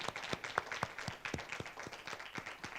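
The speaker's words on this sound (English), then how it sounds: "if you could please offer another round of applause for all of the panelists from the panel" Light applause for the panelists at a human-rights conference session, sparse individual claps from a small audience, fairly quiet and distant, lasting a few seconds.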